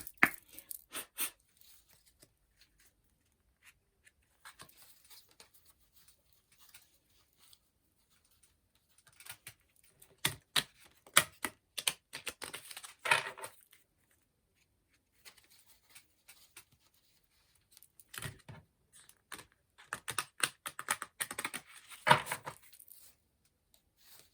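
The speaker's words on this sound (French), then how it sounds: "on va faire la coupe avec cet oracle pour avoir un petit peu les énergies du tirage" Oracle cards are shuffled and cut by hand, producing faint, close bursts of soft riffling and shuffling separated by near-silent pauses.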